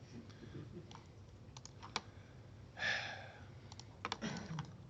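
Computer mouse clicks and keyboard typing while working in SolidWorks CAD software: sparse, fairly quiet clicks and short key taps scattered over a soft background hum, with no talking.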